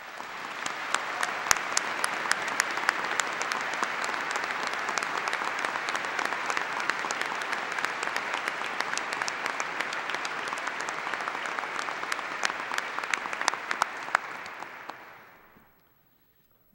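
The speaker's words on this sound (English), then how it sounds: "Let us give them a round of applause." A large commencement audience gives a long, dense round of applause at a university graduation, steady and even throughout before fading out near the end.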